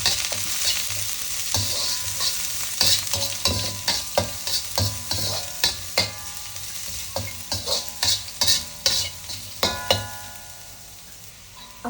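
Ingredients for white mehun sauté in a pan over a constant sizzle, broken by repeated sharp scraping strokes of a spatula, close and clear, with no talking.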